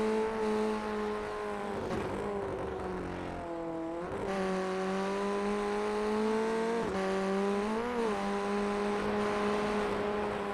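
An FF1600 race car engine revving on track at Knockhill, a sustained buzzing drone that holds high pitch and dips briefly several times as the revs drop and climb again.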